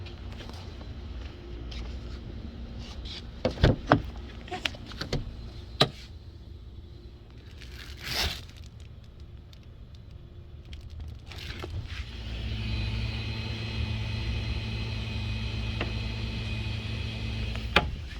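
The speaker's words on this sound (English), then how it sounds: "you can hear the fuel pump going" An electric fuel pump whirs in a stalled 2006 VW Passat. A few quiet clicks and handling knocks come first, then a steady, low humming drone sets in and holds through the final stretch.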